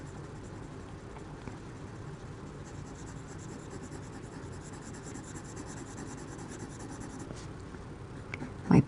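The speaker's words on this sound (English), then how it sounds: "And we're going to color in the rest of her body and her whole tail with that dark green color." A very sharp dark green colored pencil glides lightly across paper while filling in a drawn dragonfly's body and tail, a faint steady scratching with a brief louder rub at the end.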